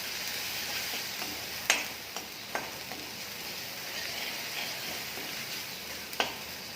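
Spices for a Gujarati tempering, with a pinch of turmeric, red chilli and coriander-cumin powder, being stirred into hot oil in a pan, giving a steady low sizzle with a few sharp clicks of the spoon against the pan.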